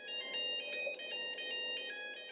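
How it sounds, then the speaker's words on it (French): A mobile phone ringtone goes off during a theatre performance, a repeating bright electronic melody playing faintly and steadily throughout. "La sonnerie d'un téléphone portable pendant une représentation."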